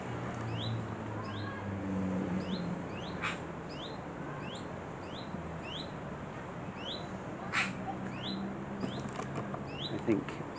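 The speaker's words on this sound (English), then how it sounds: "The sun is shining and hear those birds tweeting." Small birds tweet outdoors on a sunny day in England, with repeated short chirps scattered throughout. They sound moderately distant over a soft, steady outdoor ambience, with a few brief knocks and rustles.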